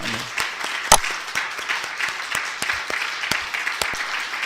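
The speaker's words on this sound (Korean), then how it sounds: "우리 하나님 앞에 격한 박수로 영광을 돌립시다" Church congregation applauding at a Sunday service near year's end, a dense steady wash of many hands clapping with one sharp louder clap near the start, continuing evenly throughout.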